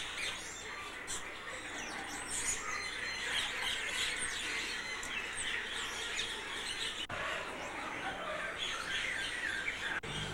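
Many birds squawk, squeal and chirp at once in a South African bird park with peacocks and African green parrots, a dense, continuous chorus of overlapping calls close by, harsh screeches rising over a steady mass of twittering.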